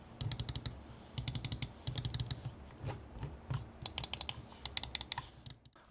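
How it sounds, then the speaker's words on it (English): Buttons on a Logitech G703 wireless gaming mouse click in quick, crisp bursts of several presses each, close and dry, on a quiet desk with nothing else sounding. "The buttons do feel responsive and clicky, pretty standard of any good gaming mouse."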